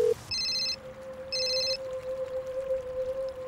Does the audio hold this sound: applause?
no